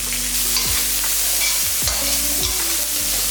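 Okra frying with chopped onion and green chilli, a loud continuous sizzle up close, punctuated by several regular stirring scrapes roughly every half second to second.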